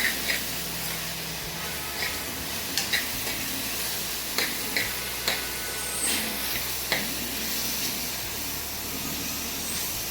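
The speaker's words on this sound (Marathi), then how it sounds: "कांदा आपला परतत येतोपर्यंत मी तुम्हाला मसाल्यांचं सांगते" Chopped onion sautés in a pan for Puneri misal, with a steady sizzle and hiss broken by repeated light scrapes and clicks of a spoon stirring, close and fairly loud with no talking.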